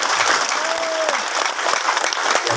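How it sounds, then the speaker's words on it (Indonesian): A room full of people claps steadily and loudly, sustained applause with no pause throughout. "Tepuk tangan untuk Pak Wali Kota."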